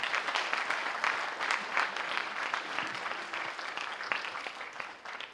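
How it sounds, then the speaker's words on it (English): Applause for parents at a high school gathering, a steady patter of many hands clapping at a moderate distance, fading slightly toward the end. "We should clap it up for the parents, because it's super hard."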